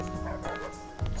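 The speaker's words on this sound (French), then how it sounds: "Pourquoi j'entends des chiens?" Dogs bark in the PC game Deus Ex, a couple of short barks and yips heard at moderate distance over a busy game soundscape.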